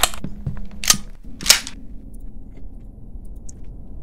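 A new shotgun is test-fired in a video game, two or three sharp, snappy shots in quick succession near the start, followed by a low droning background.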